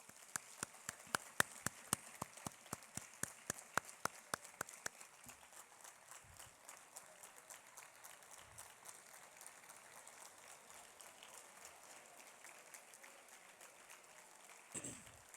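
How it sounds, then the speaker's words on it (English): Applause at a school Model United Nations closing ceremony: scattered, crisp claps ring out for about five seconds in a hall, then thin into faint occasional claps. "Can we have a round of applause for them, please?"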